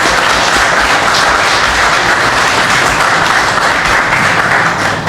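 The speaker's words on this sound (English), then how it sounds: "A round of applause for this amazing person." A crowd gives a sustained round of applause for a newly promoted NYPD captain at a community ceremony, with many hands clapping in a dense, even wash that stays loud and unbroken throughout.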